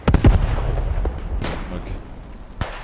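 Explosions and gunshots in the video game Squad 44 crack out in a dense burst, followed by a few more scattered booming shots, loud and close.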